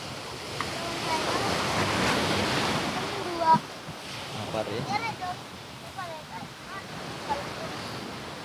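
Ocean surf washing onto Waitawar beach, a steady broad wash of waves with wind noise, while a voice talks intermittently over it.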